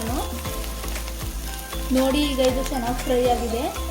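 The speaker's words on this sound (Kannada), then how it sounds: "ಚೆನ್ನಾಗಿ ಈ ಥರ ಫ್ರೈ ಆಡಿಸ್ಕೊಳ್ಳಿ, ಹಸಿ ವಾಸನೆ ಹೋಗೋವರೆಗೂ." Ginger garlic paste frying in oil for butter pepper chicken, a continuous close sizzle with regular scraping strokes of a spatula stirring the pan and a low hum underneath, plus a faint voice in the middle.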